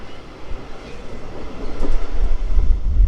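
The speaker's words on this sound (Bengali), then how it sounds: "একদম ডিগ ডিগ করে ট্রেন যাচ্ছে আস্তে আস্তে" A passenger train rolls slowly along with a low rumble and faint clatter of wheels that grows gradually louder and heavier over a few seconds.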